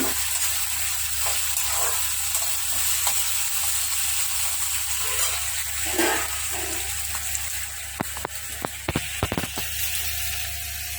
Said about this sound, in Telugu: తాలింపు అంతా కలిసేట్టుగా తిప్పాలి